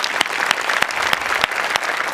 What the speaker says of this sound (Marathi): सो तुझ्या पॅशनसाठी माझ्याकडून खरं तर टाळ्या.